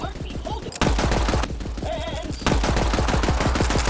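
Rapid gunfire from the video game Borderlands 3, with dense automatic bursts of shots cracking in a steady, continuous stream, growing louder partway through and never letting up.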